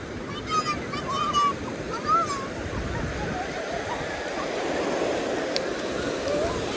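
Sea waves washing up on a beach at Devgad, a steady broad rush of surf filling the scene, with excited voices and shouts over it in the first few seconds.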